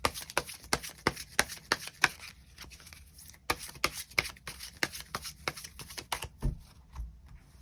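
Tarot cards shuffled and drawn by hand, a rapid series of crisp flicks and slaps repeating in an irregular rhythm, close and dry, with a brief pause midway and no talking.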